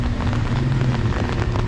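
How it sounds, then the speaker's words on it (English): Rain falling steadily in Oaxaca, Mexico, a dense, even patter of drops on surfaces that holds constant and fairly close, with no voices. "Oh, now it's raining."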